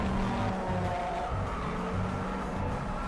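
Steady roar of a rally car engine in the video game Need for Speed: Most Wanted, with a rough, droning tone and faint tire noise, continuous and fairly close, with no speech.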